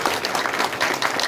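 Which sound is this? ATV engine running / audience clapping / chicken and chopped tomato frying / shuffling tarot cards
audience clapping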